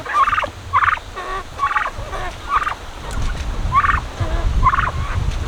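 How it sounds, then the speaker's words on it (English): Two turkeys gobbling in repeated short bursts, about six calls spaced a second or so apart, loud and close over low rumbling background noise. "There's the 2 turkeys that Landon has"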